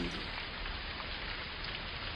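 Steady rain falls in a dense, even hiss, loud and continuous with no voices.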